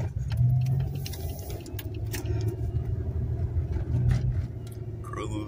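A car cruises through city streets at night on 27th Avenue in Phoenix, with a steady low engine and road rumble heard from inside and faint clicks and rattles over it.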